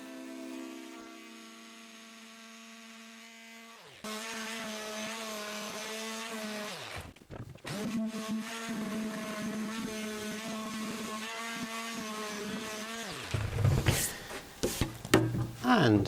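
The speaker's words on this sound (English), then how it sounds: "And that's the sanding done." Power sander working over wood with 180-grit paper in a workshop, a steady high droning whine that starts abruptly, holds with slight pitch wavers, then cuts off into a few knocks.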